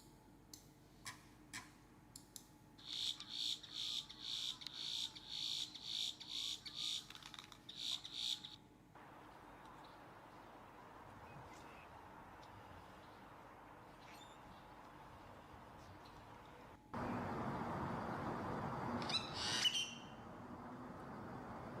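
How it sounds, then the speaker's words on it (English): Great-tailed grackle calling: a run of rapid, metallic clicking notes repeated in quick bursts, then a sharp rising whistle over a hissy, noisy background. "There's the great-tailed grackle."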